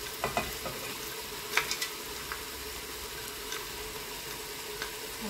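Ingredients for Moroccan harira soup, lentils among them, stirred and toasted in a pot, a steady low sizzle with faint scraping stir strokes and a few brief clinks, no voices.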